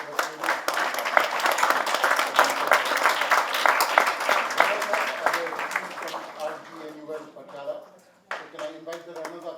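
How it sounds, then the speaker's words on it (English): An audience at an international arbitration moot court competition claps for the winning team, a dense burst of applause that fades out, with speech briefly over it near the end. "A huge round of applause for the winners."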